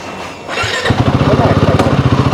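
A motorcycle on a Kolkata to Netarhat road trip rumbles close and loud at a hotel parking spot, its engine catching after a brief shuffle and settling into a rapid, steady pulsing idle.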